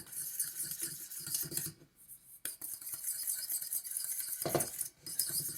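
A spoon scrapes and clinks steadily inside a mug while cinnamon is mixed into vegan apple mug cake batter, a close, busy stirring sound with brief pauses and one sharp knock near the end.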